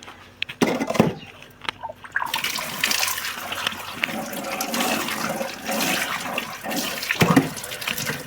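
Water pours and splashes over sweet potatoes in a clay pan. The pour is steady and fairly close, with a few knocks and handling sounds near the start, and no talk.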